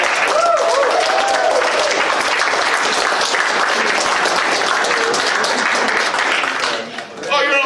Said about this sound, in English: let's have a big round of applause for AB in the back